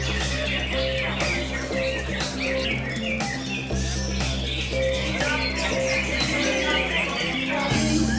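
Caged songbirds singing at a bird singing contest in a village field, a dense chorus of chirps, whistles and trills from many birds at once over a steady background hum.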